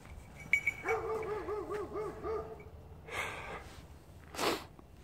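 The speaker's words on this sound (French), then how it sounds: "le chien va aboyer sans arrêt" Australian Shepherd barking outdoors in a series of close, repeated barks with whiny, yipping tones, plus a few snorts and sharp bursts toward the end; no one speaks.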